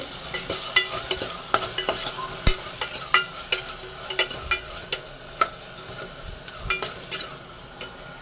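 Tomatoes and onions sizzle in a pan while a spoon stirs them, giving steady frying hiss broken by repeated sharp scraping and tapping clicks against the pan.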